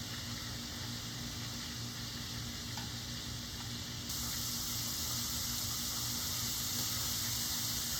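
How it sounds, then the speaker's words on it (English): Chicken livers for Southern-style frying sizzle steadily in hot oil in a pan, a dense continuous hiss that grows a little louder partway through, with no talking. "I'm going to finish frying these up, and we'll get all these done"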